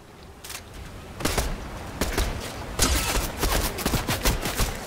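Gunfire in a Fortnite ranked match: repeated bursts of shots, some rapid and some single cracks, grow denser and louder over the clip, with faint footsteps between them.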